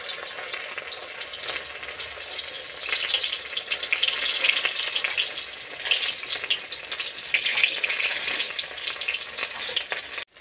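Pui (Malabar spinach) leaf fritters fry in hot oil, giving a continuous, dense crackling sizzle close by, with occasional stirring and no talking.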